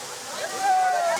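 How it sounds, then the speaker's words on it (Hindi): Water rushing and falling at a dam near Ranchi, a steady broad roar with a sloshing texture, heard briefly with faint voices in the background. "ऐसे पानी जो गिरता है ना,"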